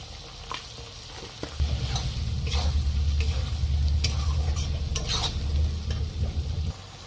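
Beef with turmeric and chili powder fries and is stirred in a pan for a Bengali beef and pui shak curry, a low steady sizzle rising after a moment with scraping spatula strokes and a few clinks.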